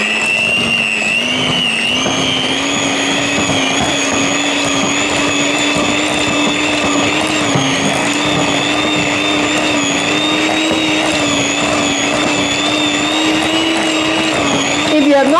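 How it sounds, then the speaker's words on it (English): An electric mixer whisks butter cake batter, with a loud, steady motor whine that holds constant and close for the whole stretch. "So we are going to whisk this until it is pale and fluffy."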